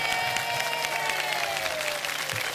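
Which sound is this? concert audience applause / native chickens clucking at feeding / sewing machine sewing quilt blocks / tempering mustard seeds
concert audience applause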